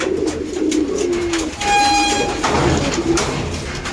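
Pigeons in a loft cooing close by in low, rolling calls, with a brief sustained tone in the middle and faint background rumble.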